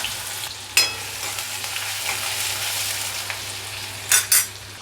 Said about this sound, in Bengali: এরপরে একটু মশলা ভেজে নিই